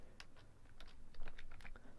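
Keys clack on a computer keyboard in a short, uneven burst of quiet taps, including a held Shift stroke, close by and with no talking.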